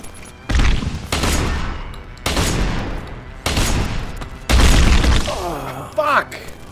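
Gunfire in Deus Ex: Human Revolution, several loud bursts of rapid shots in separate volleys, each a second or so long, with a brief metallic ringing tail at the end.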